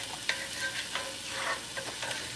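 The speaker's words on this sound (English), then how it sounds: "when I put that grease in there, it's going to sizzle" Hot grease sizzles steadily in a pan during hibachi-style cooking, a constant bright hiss with a few soft pops and scrapes, up close and unbroken by speech.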